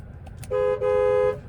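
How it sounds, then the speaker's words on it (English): Horn of a 2025 Cadillac XT5 Premium Luxury 2.0T honking from inside the cabin, two short steady tones back to back, loud and close. "There's the horn."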